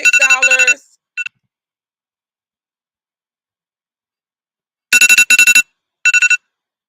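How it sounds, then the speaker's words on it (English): Electronic phone alarm tones chirp in quick clusters of bright beeps, then fall silent for several seconds before another pair of beeping bursts sounds. "Those alarms on my phone, I tell you."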